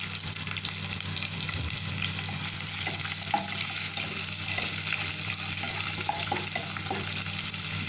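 Sliced onions sizzle steadily in hot oil for a dhaba-style mutton biryani, a close, continuous frying hiss with occasional light stirring clicks and no voices.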